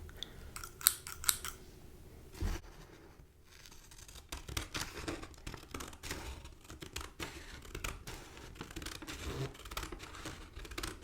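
Scissors snip through a paper pumpkin-carving pattern in a run of quick, close crisp cuts, with a couple of louder snips near the start and soft rustling of paper between them, and no voice heard.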